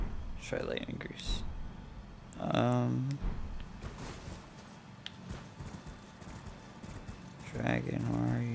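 A horse's hooves clip-clop at a steady pace in the video game Elden Ring, while a voice talks over it in short bursts.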